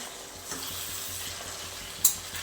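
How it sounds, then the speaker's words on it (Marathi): Finely chopped dill greens sizzle in a pan with cumin as they are stirred, a steady soft frying hiss with one sharp clink of a utensil near the end. "आपण याच्यामध्ये बारीक कट केलेली शेपू घालून घेणार आहोत आता हे मिक्स करून घ्यायचं आपल्याला"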